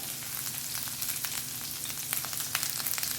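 Green chili frying in hot oil, a continuous close crackling sizzle with dense tiny pops throughout and no voices.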